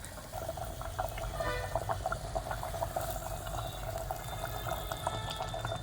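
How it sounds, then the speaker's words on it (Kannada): A spice tempering cooks in hot oil for a Kannada dill-leaf curry, giving a steady low bubbling sizzle with small crackles and pops throughout; no speech is heard. "ಒಗ್ಗರಣೆ ಬೇಯ್ತಾ ಇದೆ."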